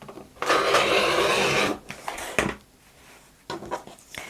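A titanium rotary blade slices through eight stacked layers of fabric in one long, loud, steady scraping pass, followed by a few shorter cutting strokes and quiet pauses.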